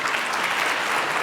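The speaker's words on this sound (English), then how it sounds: "Can you give BASF a round of applause?" A crowd at a carbon technology initiative kickoff applauds for the company BASF, a brief, full burst of many hands clapping, steady and fairly loud.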